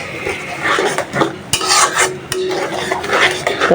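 Spice paste for a raw jackfruit curry stir-fried in a pan, with a steady sizzle and repeated scraping, clattering strokes of a spoon against the metal, close and loud with no talking.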